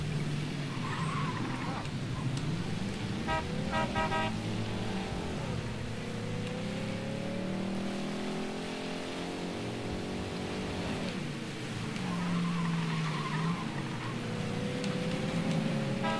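Car driving in the 1960s crime game Mafia III: a steady engine drone with shifting revs and tire skids runs throughout, moderately loud, with someone talking intermittently over it.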